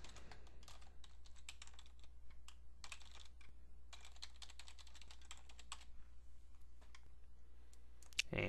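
Typing on a computer keyboard while entering a name and email into a website registration form, with steady bursts of close, quiet key clicks alone and a brief pause near the end.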